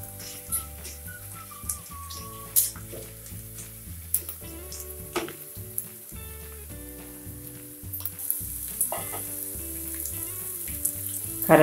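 Grated dried coconut frying in hot tempering oil for a spicy tomato chutney, a continuous close sizzle with brief stirring scrapes and a faint whistle-like tone.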